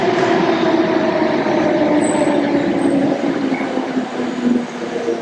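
A metro train in Athens heading toward Acropolis station rumbles steadily and loudly from inside the carriage, with a constant low drone and a couple of faint high squeals.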